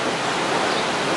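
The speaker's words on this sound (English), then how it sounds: "You can see the water coming out of the gate behind us." Broadband rushing water pours out through an opened canal lock gate near a road bridge, a steady, loud, even roar with no pauses and no voices.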